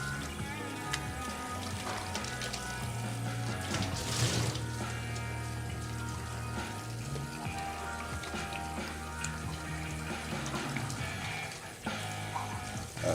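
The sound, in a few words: tap water running, rinsing vegetables in sink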